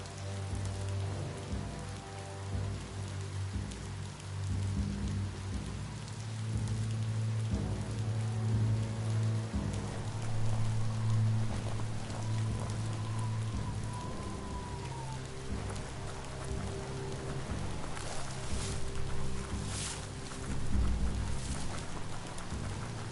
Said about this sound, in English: Wait a minute. Rain?